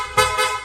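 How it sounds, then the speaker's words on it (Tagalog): Two quick blasts from an aftermarket loud horn fitted to a Yamaha Sniper 155 motorcycle, a bright, brassy honk sounding close and loud, the second burst following right after the first. "hindi lang po basta loud horn, no, nag-install din tayo ng rapid horn"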